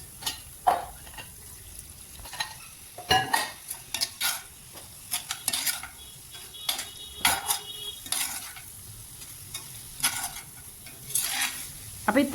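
A spoon stirring teriyaki chicken in a cornflour sauce in a pan, with repeated scraping clinks against the metal over a low, soft sizzle.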